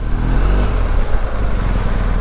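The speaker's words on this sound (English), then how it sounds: "The Boxer engine has a very different exhaust note compared to the parallel twin" A BMW R1250GS motorcycle's boxer engine gives a steady, loud, low exhaust drone from close by for a couple of seconds, with no talking.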